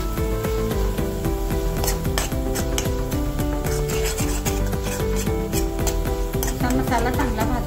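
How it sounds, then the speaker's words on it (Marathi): Spice masala with turmeric, salt and red chilli powder roasting in oil for rajma, heard as a steady loud scraping and rubbing of a spoon in the pan over continuous sizzle, close up and unbroken, with no speech. "मसाला चांगला भाजून घ्यायचा तेलात"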